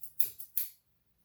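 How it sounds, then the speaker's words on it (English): Three crisp snips from a pair of cheap hair-cutting scissors cutting hair, close and quick in succession, followed by quiet. "I'm going to be using these cheap hair cutting scissors I bought on eBay like 7 years ago."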